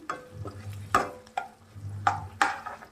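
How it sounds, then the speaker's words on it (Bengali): Onions, garlic cloves and dried red chillies fry in a pan, with a low steady sizzle punctuated by several sharp spatula scrapes and clinks against the metal. "তো পেঁয়াজগুলোকে এখন লাল লাল করে ভেজে নেবো।"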